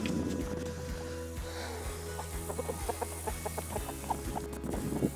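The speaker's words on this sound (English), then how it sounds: "Feed the chickens." Chickens cluck in short, scattered bursts over a steady low engine-like drone on a farm with Nigerian Dwarf goats, the birds fairly close but partly buried in the rumble.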